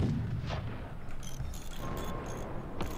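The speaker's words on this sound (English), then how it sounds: "The flak gun is incredible." Flak gun in the video game Forts, a deep booming blast at the start followed by rumbling aftermath and scattered metallic clanks and higher bursts, a dense continuous battle din without talk.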